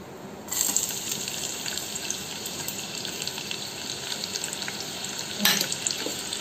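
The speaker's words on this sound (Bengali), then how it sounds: "তো এই যে তেলটা গরম হয়ে গেছে এর মধ্যে আমি দিয়ে দেব এই যে কুচি কুচি করে রেখে যে পেঁয়াজগুলো।" Finely chopped onions hit hot mustard oil and fry with a steady, close hiss that starts abruptly and keeps going, with a brief louder burst of sizzle partway through.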